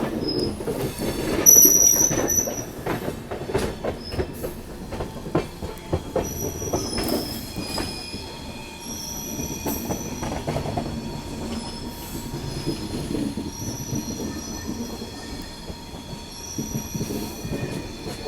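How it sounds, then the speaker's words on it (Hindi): Indian railway train with twin WDG4 diesel locomotives rolling past, a steady rumble of wheels and wagons with squealing wheel screeches and faint rhythmic clatter throughout, no talking. "सामने में खड़े हैं WDG4 ट्विंस लोकोमोटिव"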